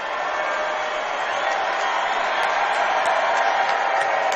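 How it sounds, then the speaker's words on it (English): A Connersville crowd at a sectional high school basketball game against Richmond, a dense, loud, continuous roar of voices filling the gym, with faint sharp squeaks and knocks on top. "what a crowd here tonight from Connersville"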